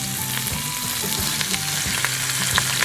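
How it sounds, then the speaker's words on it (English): A chuck roast sears in a Ninja Foodi pressure cooker, giving a steady, close sizzle and crackle of frying meat with faint scraping and stirring knocks, no talking. "So we're just going to sear this on all sides best we can"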